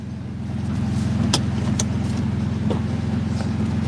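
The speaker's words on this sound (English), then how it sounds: "You can hear the engine now." A BMW E85 Roadster engine idling steadily nearby with a continuous low rumble and a few faint clicks over the top.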